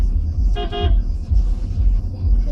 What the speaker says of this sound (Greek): Τι κορνάρεις ρε?